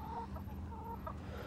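Chickens cluck softly in short, uneven bursts in the Fallout TV series, fairly close, over a low steady background rumble with no talking.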